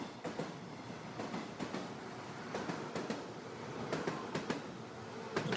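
Train pulling into a station, heard as a steady rumbling roll with repeated clacking wheel beats and rail clicks, moderately near and fairly quiet, with no voices over it.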